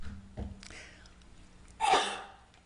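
A single sharp sneeze bursts out near the end of a quiet public board meeting room with faint murmurs and rustling.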